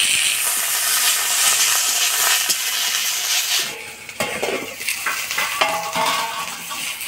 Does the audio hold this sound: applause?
no